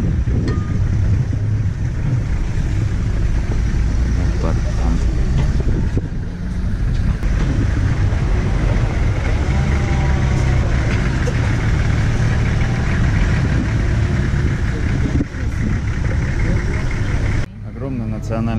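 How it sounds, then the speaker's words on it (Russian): Several safari vehicles sit idling together around a leopard in a Tanzanian national park, a steady low engine rumble with wind buffeting the microphone, running continuously with voices talking over it. "У нас здесь около 8 машин."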